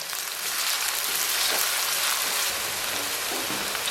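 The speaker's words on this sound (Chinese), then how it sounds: "油温3、4成热咱们把葱姜蒜给它下里边" Scallion, ginger and garlic sizzle steadily in oil heated to moderate temperature in a wok, a dense continuous hiss that holds even and fairly loud throughout with no talking.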